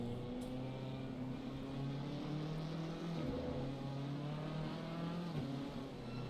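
In a racing video game on the Circuit of the Americas, a race car's engine drones steadily with shifting pitch as the car struggles for traction, a continuous mechanical whine with no break.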